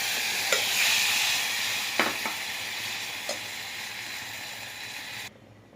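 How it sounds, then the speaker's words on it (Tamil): Coconut milk pours into a tomato and turmeric mixture frying in a pressure cooker, giving a loud, steady sizzle with a few stirring clinks, then cutting off sharply near the end. "இப்போ நம்ம எடுத்து வச்சிருக்க தேங்காய் பால் ஆட் பண்ணிக்கலாம்"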